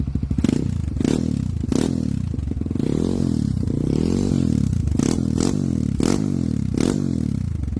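A Kawasaki KLX motorcycle fitted with a c4Project exhaust revs up close and loud, rising and falling in repeated throttle blips over a rough, popping idle with sharp bursts.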